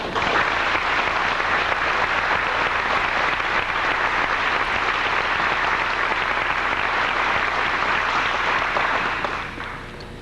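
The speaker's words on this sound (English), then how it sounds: "certainly these two deserve a round of applause" An audience at a Trinity Christian School ceremony breaks into sustained, loud applause for two honorees. The dense clapping holds steady for about nine seconds before fading near the end.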